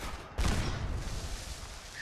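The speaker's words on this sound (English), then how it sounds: "Gotta love those are explosive fireworks, and the explosive range is really good." Explosive fireworks from a two-shot broadsider launcher in Fallout 76 burst with a sudden loud blast, then a rumbling crackle that fades over the next second and a half.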